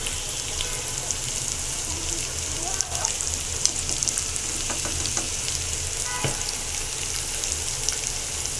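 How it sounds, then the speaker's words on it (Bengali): Turmeric and chili powder frying in oil for a rohu fish curry give a dense, continuous sizzle close up, broken by a few scrapes and clicks as the spices are stirred in the pan. "যেন মশলাগুলো না পুড়ে যায়, এই জন্য ভালোভাবে নেড়ে নিচ্ছি আমি।"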